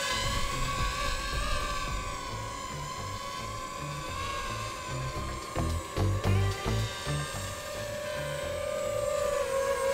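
A DJI FPV drone lifts off and flies, giving a steady high-pitched whine with layered tonal harmonics that holds continuously, fairly close and fluctuating slightly midway, with no talking.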